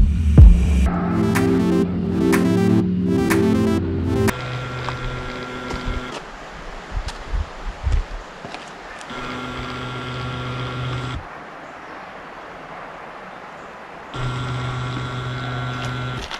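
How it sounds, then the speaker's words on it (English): A SUPTIG 360 spinning GoPro mount whirs with a steady mechanical hum and throbbing buzz, stopping and restarting several times at close range, with no talk. "That quirky little sound you can hear is the sound of the SUPTIG 360,"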